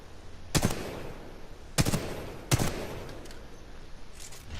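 Weapon fire in the first-person shooter Titanfall 2, with three separate loud, sharp shots or short bursts over steady background game ambience.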